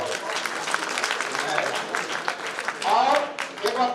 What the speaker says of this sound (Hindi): इसलिए इसके लिए जोरदार ताली से स्वागत किया जाए